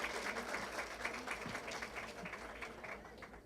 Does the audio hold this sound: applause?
yes